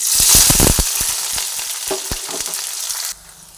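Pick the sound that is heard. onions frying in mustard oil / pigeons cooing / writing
onions frying in mustard oil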